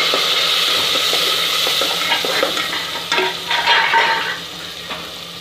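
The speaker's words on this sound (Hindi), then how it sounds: "हमारा प्याज अच्छी तरह से ब्राउन हो चुका है। अभी हम इसमें टमाटर डाल देंगे और साथ में थोड़ा सा पानी डाल देंगे।" Tomatoes and a splash of water hit browned onions in a hot pan, bursting into a loud sizzle that settles into steady frying with stirring scrapes, with no voices.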